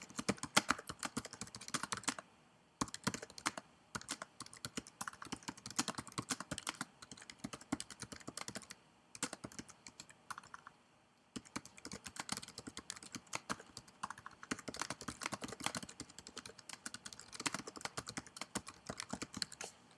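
Steady typing on a computer keyboard as a comment is entered, with dense, fast key clicks running almost the whole time and only a few brief pauses, close and clear with no talking.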